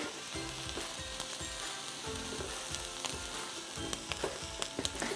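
Mushrooms and onions sizzling in butter in a pan, a faint but constant frying crackle with soft stirring clatter and a cluster of small pops near the end.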